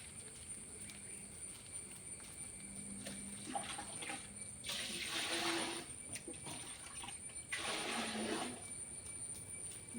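Liquid rice-and-ash fertilizer is poured a little at a time onto young plants, making two quiet, short splashing gushes against a faint outdoor background.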